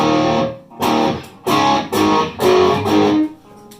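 Loud electric guitar chords through a BOSS SD-1 overdrive pedal, strummed in about five short bursts separated by brief pauses, with no voices.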